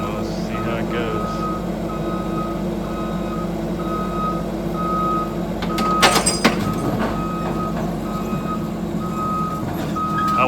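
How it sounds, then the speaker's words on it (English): A steady, evenly spaced backup alarm beeps continuously on a Bobcat T66 skid steer, cutting through a loud machine rumble and engine drone, with a brief clatter partway through. "I'll have to do something about that hideous backup alarm maybe."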